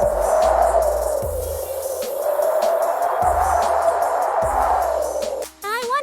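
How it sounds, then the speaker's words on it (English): Steady broadband wind whooshing with a faint low rumble beneath, loud and continuous for several seconds before easing off near the end, where a brief rising tonal sweep appears. "It's the wind."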